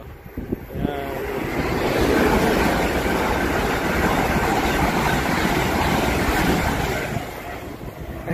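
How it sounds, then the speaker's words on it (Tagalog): A train rushing past close by in London, a loud sustained roar and rumble building and then fading, with no voices. "Yan, as expected, parating na yung train."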